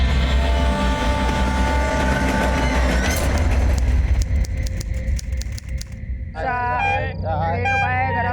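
Train pulling into a station, a loud continuous low rumble of wheels and carriage noise with squealing tones, fading out as speech takes over near the end.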